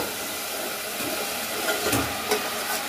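Fish frying in a pan with turmeric, chili powder and salt, giving a steady soft hiss and sizzle throughout, with a few brief louder crackles near the end and no talking.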